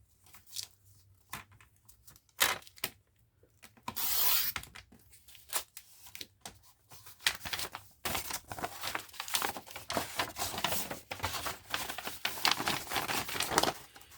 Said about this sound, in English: I'm just going to fold them in half and then trim them that way.